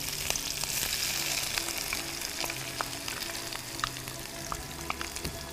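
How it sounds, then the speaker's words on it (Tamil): Onions dropped into very hot oil after mustard seeds, giving a dense crackling sizzle with scattered pops and occasional stirring, close and steady with no speech. "இப்போ வந்து ஆனியன் உடனே போடணும், ஏன்னா ஆயில் ரொம்ப ஹீட் ஆயிடுச்சு ஆல்ரெடி."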